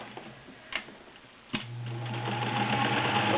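Sears Kenmore model 1802 sewing machine stitching delicate fabric with a size 16 needle: a few soft clicks, then the motor starts and settles into a steady close whirring hum.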